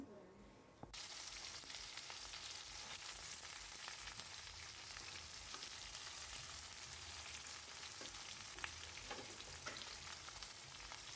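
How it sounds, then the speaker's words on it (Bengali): Salted chopped onions frying in a pan for chicken pulao, a faint, continuous crackling sizzle with a sharp knock at the start. "এবারে একটু নুন দিয়ে পেঁয়াজ কুচিটা ভালো করে ভেজে নিই।"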